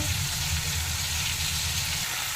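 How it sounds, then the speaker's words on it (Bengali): Vegetables with salt, turmeric and cumin frying in a pan, with a continuous close hiss and sizzle and a faint low bubbling underneath, with no talk. "দু মিনিট ধরে সবজিগুলো একটু ভেজে নেব"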